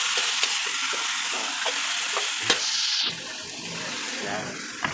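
Pancit broth in a cooking pot being stirred after pepper is added, a steady bubbling sizzle with scraping strokes of the spoon up close, a brief metallic knock partway through, and no talking.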